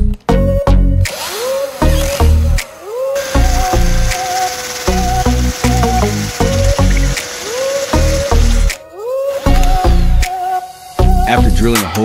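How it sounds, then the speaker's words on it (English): A loud power drill whirs in bursts, its pitch rising and falling as it bites into a metal spoon, drilling a hole in its center, with brief pauses between runs. "After drilling a hole in the center of the spoon"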